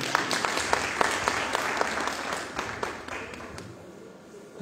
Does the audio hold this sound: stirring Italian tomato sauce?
no